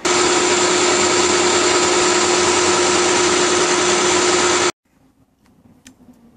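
A lathe takes a 14-thou cut on a cylinder head piece for a 1913 Wolseley, making a loud, steady high whine for about four and a half seconds. The sound stops abruptly, leaving quiet shop noise.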